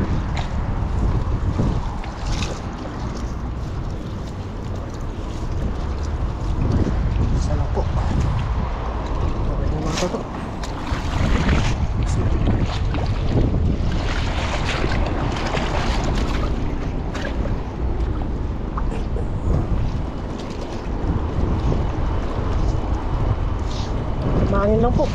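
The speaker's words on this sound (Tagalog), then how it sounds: "Mahangin lang po." Strong wind buffets the microphone in gusty, roaring rushes over a low rumble of water and a boat, with voices talking intermittently beneath.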